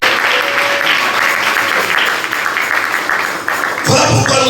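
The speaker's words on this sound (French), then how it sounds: "Est-ce que tu peux acclamer encore une fois?" A church congregation at a Sunday service claps in loud, continuous applause filling a large room, with a few voices calling out in the mix and a brief swell near the end.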